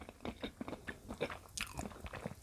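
Close, crisp bites and chewing of a Thai-style papaya salad with sticky rice noodles, fresh shrimp and raw vegetables, coming as a run of irregular crunchy bursts with no talking.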